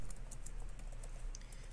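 Quiet, quick keystrokes tap across a computer keyboard in an irregular run of soft clicks, with no talk over them.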